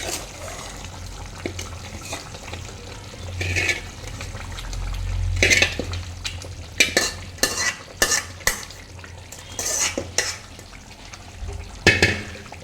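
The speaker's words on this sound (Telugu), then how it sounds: "పన్నీర్ ముక్కలు దీంట్లో వేసుకోవాలి" Pieces of fried paneer go into a simmering palak paneer butter masala curry and are stirred with a spoon, giving soft sloshing scrapes and clinks against the pan over a low simmering hiss.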